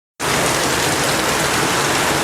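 Heavy early-morning rain pours onto a tin roof, a dense, steady roar of drumming that starts abruptly after a moment of silence and stays loud and unbroken.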